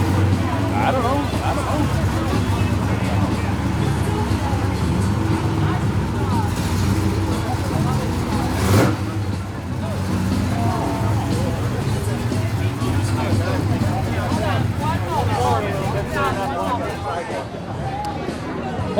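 At an evening car show, cars are shuffled around, engines idling and rumbling close by amid a busy crowd with voices talking throughout.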